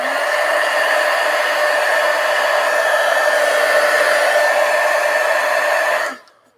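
A hair dryer blows steadily on a page of wet ink, a loud, even whine held for about six seconds before it switches off and quickly winds down.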